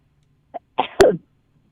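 A single sharp sneeze up close, with a brief intake of breath just before it.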